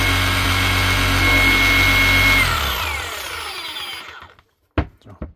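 Hikoki DH40MEY2 hammer running steadily with the trigger locked on, a loud continuous motor and hammering roar that winds down and stops, followed by a few sharp handling clicks and knocks.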